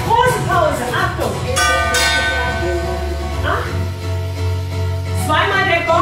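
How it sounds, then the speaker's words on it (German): A gong rings out during a bodystyling slider fitness workout, its sustained metallic tone hanging beneath a voice that keeps talking loudly over it. "zweimal der Gong, große Pause, trinken, Schweiß wischen"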